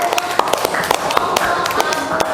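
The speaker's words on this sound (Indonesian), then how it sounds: "tepuk tangan dulu" Classroom applause from students, a brief ragged patter of many hands clapping at close range, steady for a couple of seconds with no talk over it.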